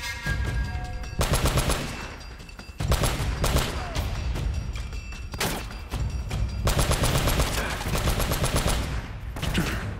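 Rapid bursts of automatic gunfire from a firefight in Uncharted: Drake's Fortune, loud dense volleys in repeated clusters with brief gaps, close and continuous across the stretch.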